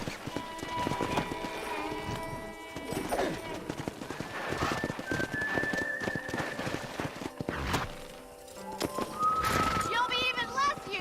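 Horses in Red Dead Redemption, a Western open-world video game, whinny and neigh while hooves clip-clop across dirt during a horse-wrangling scene, with game music, a sharp whistle and occasional voices mixed in throughout.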